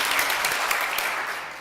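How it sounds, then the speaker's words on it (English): Brief burst of audience applause at a Rotary club meeting, a dense patter of many hands that tapers slightly toward the end. "John, I need to applaud you."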